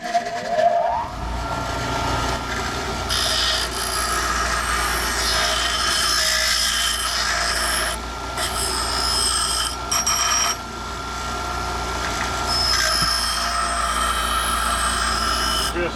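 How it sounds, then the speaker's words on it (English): A bench grinder grinding metal during a 1972 Dodge Challenger restoration, a loud continuous whine and rasp held steady with a few brief dips, no talking. "I need to use that on the grinder now"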